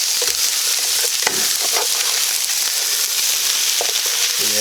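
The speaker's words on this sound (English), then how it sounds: "I got that on a good boil, and it's reducing down" Chicken adobo in coconut milk sauce bubbling at a steady boil in a pan, reducing down, with a continuous dense sizzle and scattered pops and spatters.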